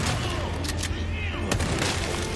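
A shotgun in Resident Evil 4 fires loud booming blasts, several close together, over a dense game soundscape with some crackle and rumble.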